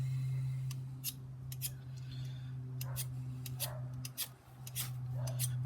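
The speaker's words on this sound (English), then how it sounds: "sort of oxidey sort of black coating that's on the outside of the ferro rod" A blade scrapes the black oxide coating off a ferro rod in short, sharp strokes, with several distinct scrapes spread over a steady low hum close by.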